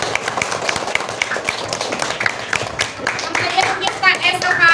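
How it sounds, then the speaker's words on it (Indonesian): A class of schoolchildren clapping their hands together at the end of a lesson, a steady patter of many hands with children's voices chattering over it throughout. "Tepuk tangan buat kita semua"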